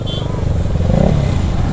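Kawasaki ZX10R motorcycle riding along, its engine drone steady and close with a slight rise in pitch, while a voice talks over it.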